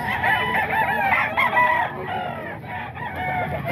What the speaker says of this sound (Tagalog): Ang daming manok ni Boss Gaga dito mga boss.